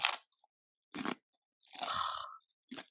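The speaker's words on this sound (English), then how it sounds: "White corn tortilla chips with like, I think there's like a hint of lime on them." White corn tortilla chips with a hint of lime are crunched close to the mic in a few loud, separate bites and chews with short silences between.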